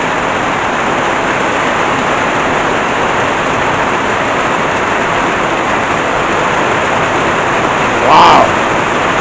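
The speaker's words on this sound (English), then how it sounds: "we need about 2 weeks of this type of rain." Heavy rain pours steadily as a dense, even hiss, with water running off a platform, loud and constant throughout; a brief brighter splash or knock rises near the end.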